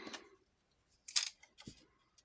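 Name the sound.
decorative scissors cutting paper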